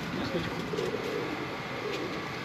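Sialkoti pigeons coo softly in a Karachi pigeon loft, low murmuring calls repeating over steady background noise, with people talking nearby.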